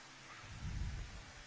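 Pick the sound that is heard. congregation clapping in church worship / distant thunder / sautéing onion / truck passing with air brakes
distant thunder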